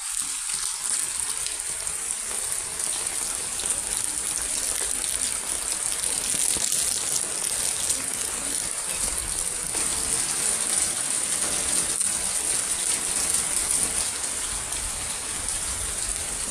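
Heavy rain falls on waterlogged streets and lanes, a steady, close, unbroken hiss of pouring water that lasts throughout without speech.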